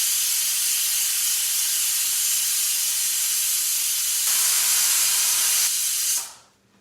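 Steam escapes from a cooker of khichdi in one loud, continuous hiss lasting several seconds before it abruptly cuts off.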